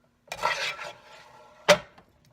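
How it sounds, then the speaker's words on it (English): One pound of ground beef drops into a pan with a soft scraping and shuffling thud, followed by a quieter rub and a sharp knock of a utensil against the pan, close and without talk. "Let me get the ground beef put in the pan."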